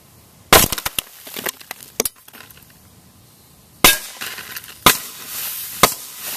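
A Sig Sauer Scorpion fitted with an Osprey 45 suppressor fires several sharp, muffled cracks, a cluster of quick shots early, then a pause before a few more spaced single reports, each with a short decaying tail outdoors.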